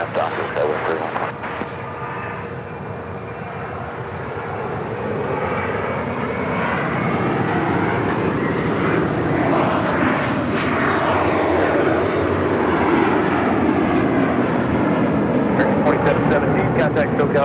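A jet airliner rolling for takeoff on runway 25 right at LAX, a broad steady engine roar that builds and holds loud and close, with radio talk over it.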